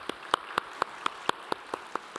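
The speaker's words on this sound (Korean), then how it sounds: "우리 박수하도록 하겠습니다." Church congregation clapping to welcome a new member, a sparse, even run of about ten hand claps at a steady rhythm, moderately close, with no voices over it.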